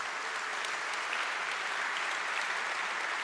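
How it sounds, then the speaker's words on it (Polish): A large audience at an anniversary gala of a regional government in Silesia applauds two city mayors, with sustained, even clapping that fills the hall without a pause. "prosimy o ogromne, ogromne brawa"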